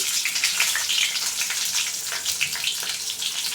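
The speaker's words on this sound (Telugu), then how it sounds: "ఇప్పుడైతే ఆవాలు వేసుకున్నాం ఒక స్పూను ఇప్పుడు ఎర్రగడ్డ వేసుకున్నాం ఒకటి తరుపుకొని సన్నగా అలాగే పచ్చిమిరపకాయలు ఒక నాలుగు చించుకొని వేసుకున్నాం" Mustard seeds, thinly sliced onion and torn green chillies fry in hot oil for a curry with fenugreek leaves and dal, giving off a steady, close hiss and sizzle with small crackling pops.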